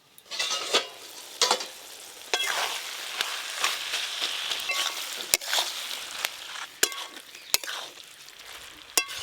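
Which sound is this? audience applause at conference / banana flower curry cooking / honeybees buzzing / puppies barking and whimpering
banana flower curry cooking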